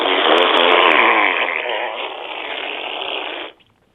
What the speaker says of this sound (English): Are you going to fart for us?